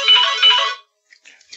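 A mobile phone ringtone plays loudly for under a second as a bright, repeating melodic tone, then cuts off into near silence with faint noises.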